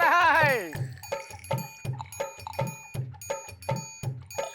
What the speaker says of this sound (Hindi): नल में पानी टपक रहा है?